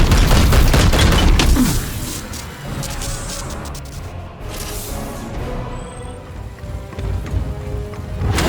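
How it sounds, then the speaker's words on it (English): Gunfire in Warhammer 40k: Chaos Gate, a dense volley of shots loud at the start that eases into scattered, lighter reports and rumbling battle noise, with no voices. "Firing on target!"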